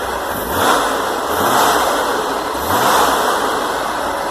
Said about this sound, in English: this is a 110 horsepower Corvair engine